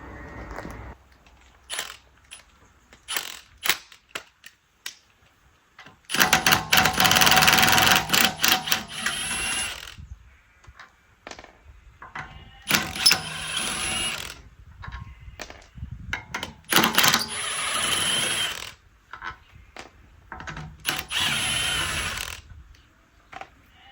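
An impact gun takes the wheels off a tuned BMW M235i. It comes in several loud, rattling bursts of a few seconds each, split by quiet gaps and softer clanks of handling.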